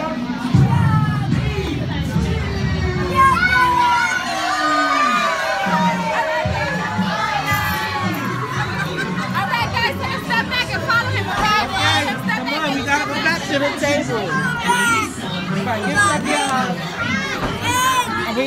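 Children at a Chuck E. Cheese birthday party cheering and shouting as a crowd, with dense, lively chatter and excited voices throughout, while an adult speaks over the hubbub.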